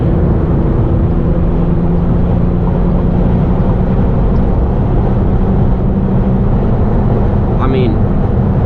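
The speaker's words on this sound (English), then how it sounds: "I'm fully on the pedal, but it's still picking up speed pretty great in 6th gear." Inside an Infiniti G37 with a VQ V6, held at full throttle in sixth gear, a loud, unbroken drone of engine and road noise runs without change throughout.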